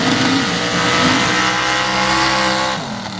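An open paddle-tire drag racing truck roars hard at the launch as its paddle tires lock up, a loud, close engine scream with shifting pitch that eases off near the end.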